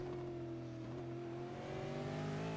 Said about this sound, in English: Darren with a big push on the clutch